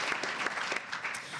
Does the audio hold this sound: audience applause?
yes